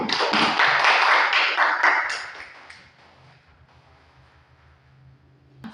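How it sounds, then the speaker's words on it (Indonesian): A classroom of children applauding, dense clapping that fills the first two seconds and then dies away into quiet room tone with a faint low hum. "Mari kita tepuk tangan untuk Angel dulu."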